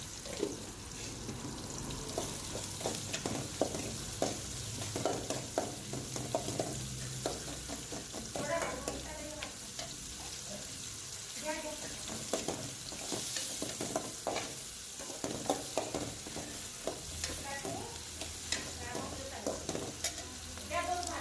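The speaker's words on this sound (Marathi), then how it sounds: "हा आता खडा मसाला आणि कांदा आपण भाजून घेतोय" Whole spices and onion with a little salt roast in a pan with a continuous low sizzle, broken by soft stirring scrapes throughout.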